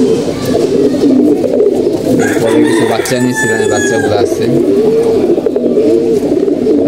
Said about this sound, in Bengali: এদিকে আমাদের উড়ার কবুতরগুলো আপনারা দেখতে পাচ্ছেন, সবগুলো রেস্টে আছে